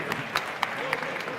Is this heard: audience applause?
yes